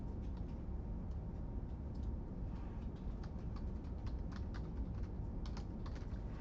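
Rapid, irregular clatter of keystrokes on a computer keyboard, steady and fairly close throughout, with no voices.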